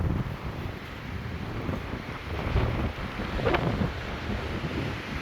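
Strong wind gusts in a wind storm in Billings, Montana, buffeting the microphone with a rough, swelling roar that rises around the middle and eases again, with no talking.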